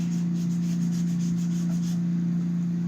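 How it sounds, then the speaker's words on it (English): Scrubbing along one side of a glossy gift box shell, a steady close rubbing scrape repeated in quick strokes over a constant low hum, fading near the end. "So I'm just going to be scrubbing this one side and take the other side and scrub that down as well."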